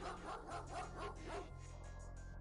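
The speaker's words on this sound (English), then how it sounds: "Debuff you with a whole bunch of dogs barking." Dogs bark in the video game The Xcom Files, several short sharp barks and yips in quick succession, fairly close, fading into a quieter whimpering tail.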